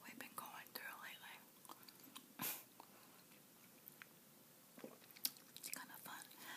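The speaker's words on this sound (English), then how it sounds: "here's the gum I'm chewing today" Sugar-free gourmet chewing gum is chewed close to the microphone, with soft, irregular wet clicks and smacks under quiet whispered talk.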